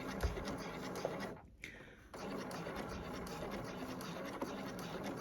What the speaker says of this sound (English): So I'm just going to now gently start stitching this.